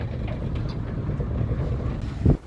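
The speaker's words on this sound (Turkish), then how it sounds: "bir yağmur rüzgarı başladı." Steady wind before rain gusting across open sea near Tahiti, a broad hiss and low rumble, with a short thump near the end.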